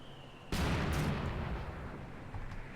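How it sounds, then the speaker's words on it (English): Mortar fire in the Company of Heroes 2 real-time strategy game: a single sudden loud boom that rolls into a long, dense rumble, with no voices. "the mortar team are in good position here, and the mortars will trade fire"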